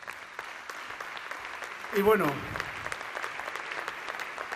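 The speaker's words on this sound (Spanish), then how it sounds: "pido un aplauso para ellos" An audience at the 27th Aragonese Music Awards ceremony in Monzón claps steadily for a band. The dense, even applause runs throughout, and someone briefly speaks over it partway through.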